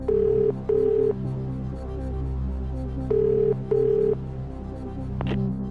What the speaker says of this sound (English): let's get your friend Paul on the line